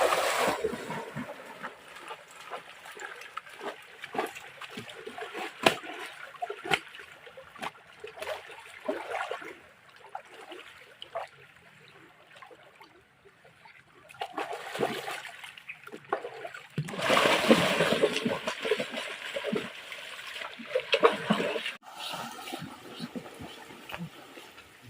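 Water splashing and trickling during bathing, with irregular bursts of splatter that swell and fade, loudest in a sustained rush near the end, with faint voices in the background.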